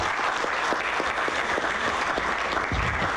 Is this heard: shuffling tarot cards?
no